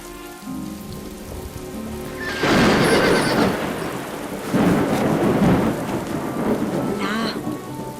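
A thunderstorm with steady rain pattering on a surface and heavy rolls of thunder swelling twice, close and loud, over several seconds; no one speaks.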